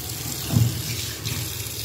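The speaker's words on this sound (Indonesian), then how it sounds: "ini jadi hidup cukup kencang ya untuk airnya" Water gushing strongly from a household tap in a new type 39 house, a loud, steady hiss of running water close by, continuous throughout with no talk.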